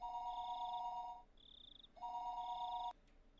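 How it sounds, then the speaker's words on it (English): An electronic telephone rings in the Higurashi When They Cry visual novel with two clear trilling bursts, each a steady double tone, separated by a short gap and cut off abruptly at the end, with no voices. "A telephone ring cut through the heavy silence."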